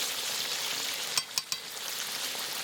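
Duck meat is stirred and fried in oil, a steady close sizzle broken by three quick sharp clacks of the spoon against the pan, no speech.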